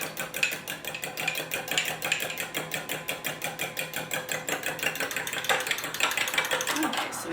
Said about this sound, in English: we're going to whisk it with a fork.